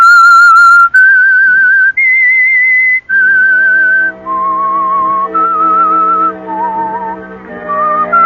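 Theme tune of The Whistler radio mystery show, a loud, clear solo whistled melody of sustained pitched notes stepping up then down, joined midway by low orchestral accompaniment.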